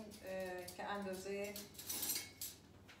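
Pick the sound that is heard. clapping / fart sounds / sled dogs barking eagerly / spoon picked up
spoon picked up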